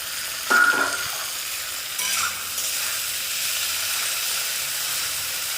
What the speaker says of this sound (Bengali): আবার আমরা এটাকে একটু নাড়াচাড়া করে নিলাম